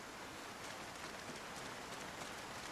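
Steady rain falls in the zombie survival game Project Zomboid, a dense, even hiss of drops on surfaces that holds at constant level throughout with no voices.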